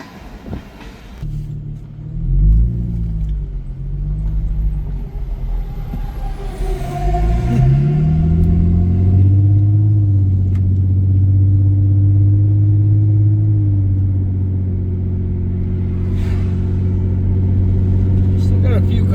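Freight train cars roll steadily across a level crossing on a railroad where a stopped train has trouble, a loud continuous low rumble with grinding tones that swells and holds for the whole stretch, with a voice talking briefly early on.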